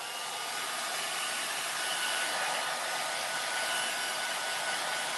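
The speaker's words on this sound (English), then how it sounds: "Now we're going to take a hair dryer, and we want to dry our age spot" A hair dryer drying a stained age spot on wood blows with a steady, loud, even whoosh and a faint high whine, running alone without interruption.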